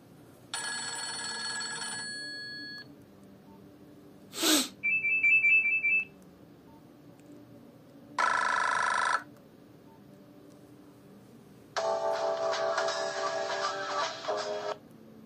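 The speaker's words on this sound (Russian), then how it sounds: "Нокиевская тема обычная." Classic Nokia tune ringtone playing from a Nokia 2760 phone, heard as a few separate bursts of bright electronic melody with short gaps between them, fairly loud and with no talking.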